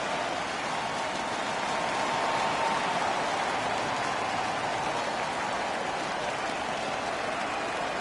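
A hockey crowd in the NHL 15 video game roaring after a goal is confirmed, a dense, continuous wash of cheering and applause that holds steady throughout without any talk over it.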